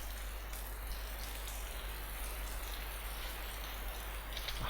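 In the ARMA 2: Operation Arrowhead military game, rain makes a constant broadband hiss near a base, with faint rattling textures mixed in. It stays steady and unbroken with no voices.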